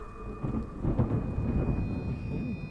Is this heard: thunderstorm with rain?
yes